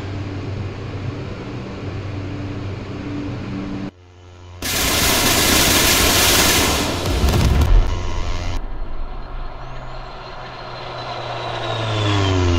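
Rockets fire in rapid succession from an OV-10 Bronco aircraft in the DCS World flight simulator, a loud continuous roaring burst over the steady drone of the plane's engines, which carry on alone afterward.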